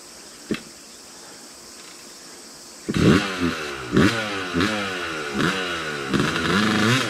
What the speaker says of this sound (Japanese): そこでエンジンかけれん